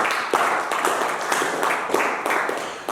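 A church congregation claps in scattered, irregular applause, a steady patter of hands at moderate volume with sharper individual claps standing out, no voices over it.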